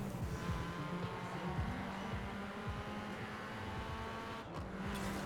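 Ford Focus RS in Forza Horizon 4 on a drag run with automatic gearbox, a steady low engine drone with quick shifts, heard fairly faintly with no talk over it.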